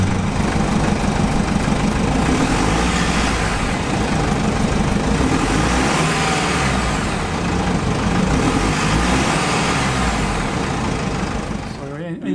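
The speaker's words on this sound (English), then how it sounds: "You just had to hear that engine. Yeah, I'm sure you enjoyed that all. I mean, diesel." The 6-cylinder turbo diesel in a 2016 Mercedes-Benz 2500 Sprinter van runs at a steady, loud rumble close by, with voices talking over it and the engine cutting off at the end.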